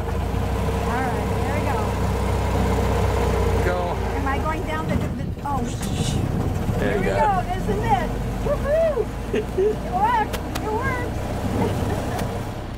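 A 1922 Ford Model T engine cranks into life and keeps running with a steady low rumble, while people talk and cheer over it.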